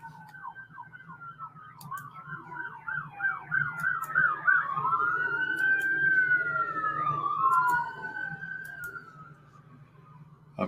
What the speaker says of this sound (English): I'm sure you all just heard all those sirens go by there